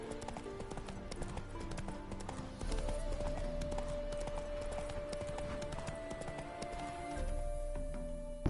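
Hoofbeats of Roach, Geralt's horse in The Witcher 3, clopping in a steady trot over layered game music, continuous and moderately close for the whole stretch.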